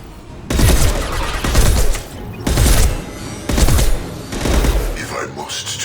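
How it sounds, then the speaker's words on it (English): High-impact shots ring out in the sci-fi shooter Mass Effect 2: several loud, booming bursts of gunfire separated by short gaps, with game voices heard between the shots. "Firing a high-impact shot."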